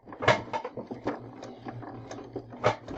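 Sewing machine running in short, rhythmic bursts of stitching while backstitching along the edge of a baby blanket, close and fairly quiet, with no one talking.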